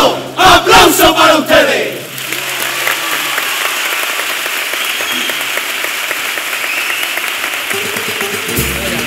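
A large crowd at a murga contest semifinal breaks out in applause and cheering after shouted calls from the stage, with loud clapping and rousing cries sustained throughout.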